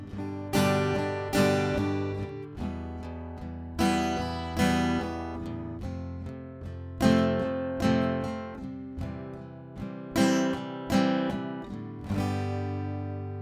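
Rhythm guitar strums a repeating pattern with sharp accents falling on the offbeats, each accented chord ringing out and decaying before the next, played alone without talk.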